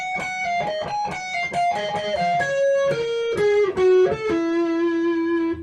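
Guitar plays a long, fast melodic phrase of quick picked notes descending in pitch and ending on a sustained low note, with a slightly driven tone, close and alone.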